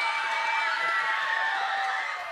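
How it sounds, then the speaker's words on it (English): A roomful of students in a school classroom cheer and shout together in a loud, sustained burst that fades slightly at the end. "When Ty Breitlow walks in the room, his students cheer"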